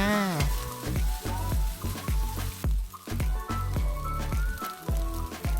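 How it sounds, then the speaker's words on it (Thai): Vegetables are stir-fried into a large batch of fried rice, with a busy sizzle and rhythmic scraping and tossing of a spatula against the pan repeating many times, close and alone. "ผัดต่อจนผักนิ่มแล้วก็เข้ากันดีก็เป็นอันเสร็จแล้วจ้า"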